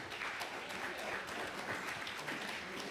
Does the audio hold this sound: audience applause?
yes